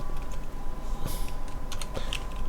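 Computer keyboard typing close by, with a stream of irregular light key clicks and taps over a steady low background hum.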